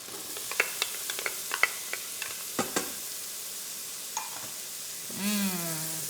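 Soft sizzling of a cup of chopped onion in a pan with scattered clicks and taps of stirring, then a brief rising whine near the end.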